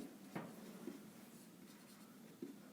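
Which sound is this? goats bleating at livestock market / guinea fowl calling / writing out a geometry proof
writing out a geometry proof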